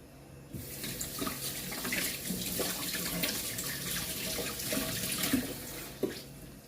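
Tap water runs into a kitchen sink while moringa leaves are washed, a steady close splash with small clatters and a knock near the end, no voices.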